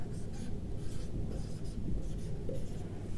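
Pen or pencil writing out numbers for a subtraction problem: close, scratchy strokes in short repeated bursts, with some background hum.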